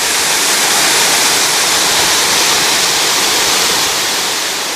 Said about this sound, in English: We're downstream a ways from the falls itself, and you can see all of the broken pieces of limestone.